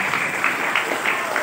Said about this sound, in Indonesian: Berikan semangat, berikan tepukan kepada guru-guru Anda